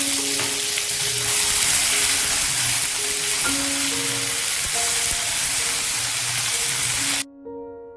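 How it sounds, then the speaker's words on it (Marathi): Ground spice paste sizzles loudly and steadily in hot oil with turmeric and curry leaves, giving a dense crackling hiss, with light stirring clinks and a faint background tone before it cuts off near the end. "अगदी 1 मिनिटच हे वाटण आपण तेलामध्ये चांगलं परतून घ्यायचंय"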